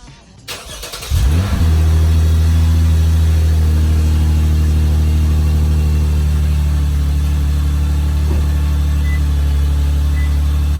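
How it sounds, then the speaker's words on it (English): Lexus IS with an F Sport exhaust cold-starting after a second of quiet: a sharp cranking catch, then a loud, steady, deep idle rumble that settles and holds close by, with no talking. "let me go get a cold start real quick, because this thing sounds amazing with this Lexus F Sport exhaust"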